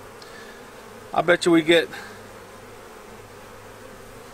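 Honey bees buzzing around a beehive: a steady, droning hum fills the background throughout, with a person speaking briefly over it.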